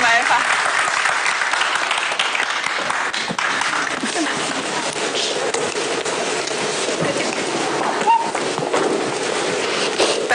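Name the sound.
studio audience applause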